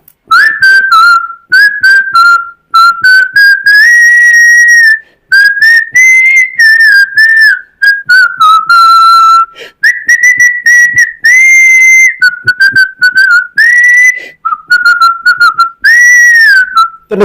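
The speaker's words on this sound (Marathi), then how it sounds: "मी शिट्टीतून गाणं म्हणून दाखवणार" A person whistles a song melodically, loud and close, in phrases of sustained and wavering notes separated by brief breath pauses.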